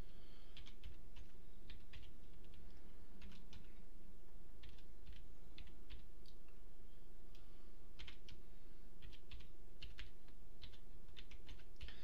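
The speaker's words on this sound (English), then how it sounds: "I'm having such a hard time typing today." Someone types on a computer keyboard in irregular bursts of quick, close clicking keystrokes, with short pauses between runs, over a steady low background hum and no talk.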